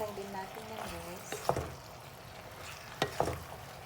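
Pasta noodles stirred in a pan with oil for aglio olio, soft frying sizzle with a couple of sharp scraping clinks from the utensil, a voice speaking over it at the start.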